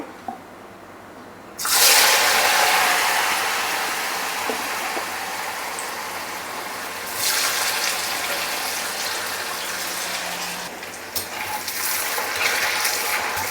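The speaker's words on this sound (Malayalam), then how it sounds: "അതിലേക്ക് ഞാൻ നമ്മുടെ കോൺഫ്ലോർ ഇട്ട് മിക്സ് ചെയ്ത ഫ്രൈസ് ഇട്ട് കൊടുക്കുകയാണേ" Cornflour-coated fries drop into hot oil for deep frying with an abrupt surge of loud, rushing sizzle. The bubbling hiss keeps going, swelling again midway as more fries go in.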